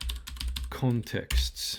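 Rapid clicking on a computer keyboard while renaming a function in the Unreal Engine 5 editor, a short close burst of keystrokes followed by someone talking.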